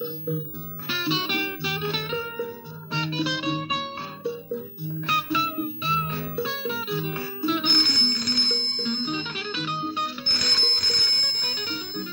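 A melodic electronic phone ringtone in a 1974 Hindi film repeats its bright, chiming pattern over and over, clear and fairly loud, with no voices.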